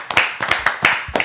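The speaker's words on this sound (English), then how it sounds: "Let's give a round of applause for that boy" A round of applause for a young athlete who has joined the locker room, with short bursts of close clapping swelling and fading in quick waves.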